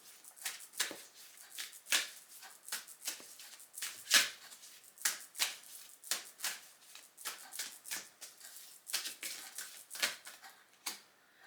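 A deck of fairy oracle cards is shuffled steadily for about eleven seconds, with quick overlapping riffles and soft flicks close by and no talking.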